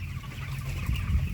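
A crowded flock of broiler chickens, about a month old, packed tightly in a coop, with continuous close, low clucking and murmuring and no talking.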